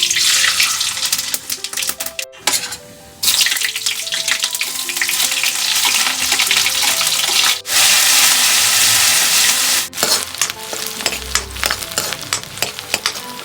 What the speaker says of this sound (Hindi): यहाँ पर तड़का मारने की तैयारी शुरू कर दी है मैंने।